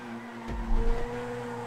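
Grotti F1 race cars battle on a downhill section of a GTA V race, giving a steady high engine whine with a brief louder surge as a car passes close, heard alone without talk.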